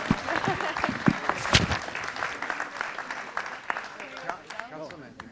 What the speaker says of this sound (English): Once again, everybody, give them a round of applause.